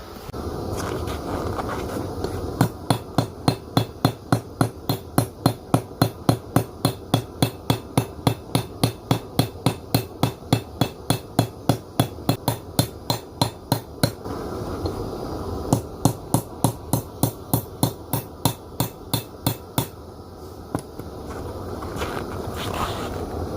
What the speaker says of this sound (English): I already have a piece cut off and it's in the forge heating up right now, so let's get forging.